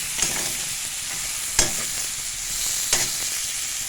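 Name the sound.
prawns with turmeric and salt frying in oil in a kadai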